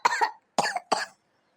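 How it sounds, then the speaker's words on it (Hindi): Three harsh, throaty coughs from an elderly woman close to the listener, the first a double burst, then two single ones after short pauses, with silence at the end. "आपको तो बहुत ज़्यादा खांसी हो रही है अम्मा"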